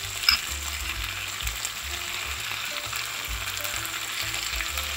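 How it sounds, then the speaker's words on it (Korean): Steady sizzling and crackling of pork stir-frying with garlic and chili flakes in a hot pan, close and continuous, with occasional scraping of a utensil. "넣어주신 상태에서 한 번만 더 볶을게요"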